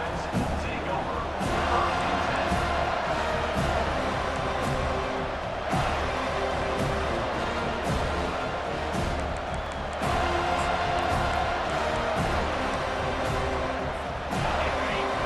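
Stadium crowd in EA Sports College Football 25 roars and jeers steadily at a loud, continuous level, a dense wash of voices with swells, under a game commentator's talk.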